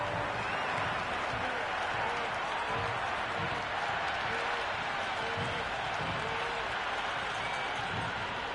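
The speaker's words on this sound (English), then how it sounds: "The crowd are really getting quite raucous." A raucous cricket stadium crowd in an IPL video game match between RR and KKR, a steady roar of cheering and noise filling the whole stretch with no letup.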